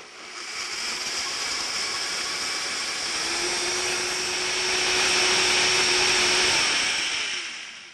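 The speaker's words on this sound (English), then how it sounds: "Using a high power blender, this dressing takes 2 to 3 minutes to blend smooth." A high-power blender whirs through a ginger dressing of lemon, miso and tahini, a steady loud motor whine that ramps up, holds for several seconds with a rising tone, then winds down at the end.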